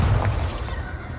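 A Bombarda blasting spell in the Hogwarts Legacy video game, a single brief heavy impact with a shattering crunch that fades into a low rumble.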